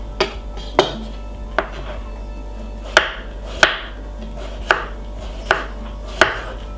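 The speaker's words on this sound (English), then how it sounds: "I'm just simply cutting up some tomato, some cucumber at the moment." A knife chops tomato and cucumber for vegan vegetable wraps, with sharp regular thuds on a cutting board, each followed by a faint scrape, close and clear with no talking.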